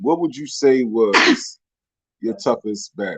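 A single sharp sneeze bursts out between stretches of conversational talk in a quiet room, close and loud.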